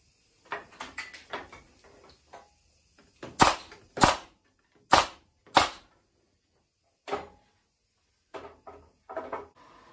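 A staple gun fires into a glued wooden beehive slatted rack, sharp snapping shots in irregular bursts, some close together and some spaced apart, with quiet gaps between them.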